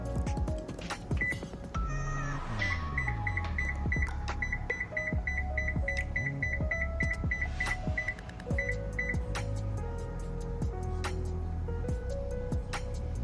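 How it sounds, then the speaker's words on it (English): Repeated electronic beeps from a kitchen timer set while green plantain porridge boils on the stove, sounding in a steady rhythm through the middle of the clip over cooking clatter and kitchen background noise. "I'm going to set my timer."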